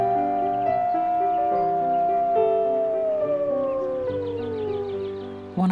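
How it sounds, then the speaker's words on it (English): A wolf's long, sustained howl, sung to summon its pack, slowly bending downward in pitch, loud and close, over a layered tonal background. "I howled to summon them."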